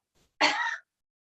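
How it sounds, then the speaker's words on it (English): A single short, breathy cough or throat-clearing burst, close and fairly loud, preceded by a faint breath. "And now you're gonna cough for me."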